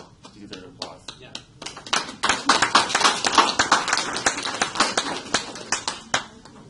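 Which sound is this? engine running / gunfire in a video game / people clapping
people clapping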